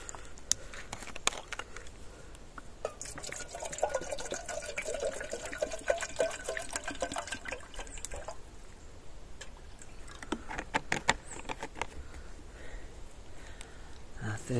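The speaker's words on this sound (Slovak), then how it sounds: "Pôjdem si dať variť vodu." Water being poured into a pot to boil tea and sausage at a snowy winter bushcraft camp in the forest, a steady liquid splash with drips and small clatters, close and moderately loud, with no talking.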